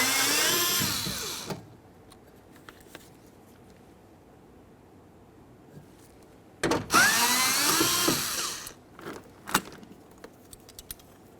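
Power tool spinning out 10mm-headed bolts from the door of a 2004-2006 Scion xB during exterior door handle replacement, two loud whirring bursts separated by a quiet pause with faint clinks.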